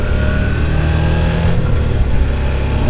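A Suzuki V-Strom 650 motorcycle lapping the Midland Circuit in Lelystad: a loud, close, steady engine drone with shifting pitch as the rider works the throttle, plus wind rush.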